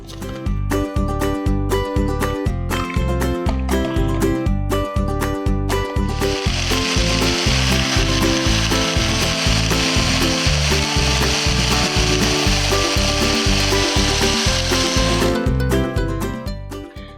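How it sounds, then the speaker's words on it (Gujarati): A mixer grinder whirs loudly and steadily with rhythmic clattering pulses as it crushes muskmelon with ice cubes in the jar, running for most of the clip before stopping. "આપણે મિક્સર જારમાં ક્રશ કરી દઈશું બધું."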